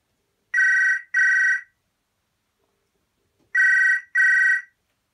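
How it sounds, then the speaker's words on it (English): A 1988 BT Viscount beige press-button telephone ringer trills loudly in two paired bursts, each pair of short electronic warbling rings separated by a long silent gap. "here's what the ringer sounds like. It's pretty loud"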